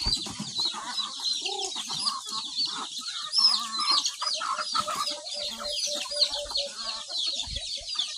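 Native backyard chickens on a hillside farm, waiting to be fed, cluck steadily up close while a dense chorus of high peeping carries on throughout.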